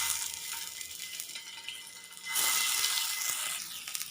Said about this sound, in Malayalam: ചെറുതായിട്ട് അങ്ങോട്ടും ഇങ്ങോട്ടും തിരിച്ചിട്ട് കൊടുത്തിട്ട് മുട്ട നന്നായിട്ടൊന്ന് പൊരിച്ചെടുക്കുക